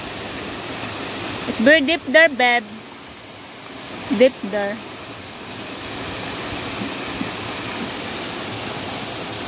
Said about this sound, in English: Balik na yung tubig dito sa Taktak Falls.